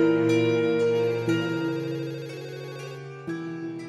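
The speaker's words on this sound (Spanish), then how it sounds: "El teléfono ha estado sonando durante tanto tiempo." A telephone rings in a Spanish-language audio drama, giving a series of electronic tones that restart every second or two and fade slightly between bursts.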